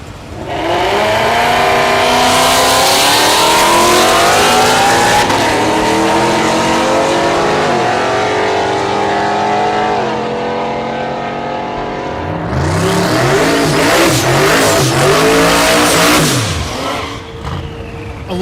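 Drag racing cars, including a Trailblazer SS, roar down the strip at Thunder Valley in Noble, Oklahoma, engines revving hard through rising gear pulls, loud and close, then a second wave of high-pitched acceleration in the later seconds.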